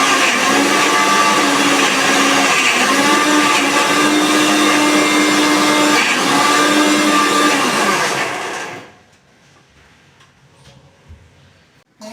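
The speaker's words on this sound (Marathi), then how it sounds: "आपण मिक्सरला लावतोय ते" A kitchen mixer grinder whirs loudly and steadily for about nine seconds grinding amla (Indian gooseberry) segments, then shuts off, leaving near silence.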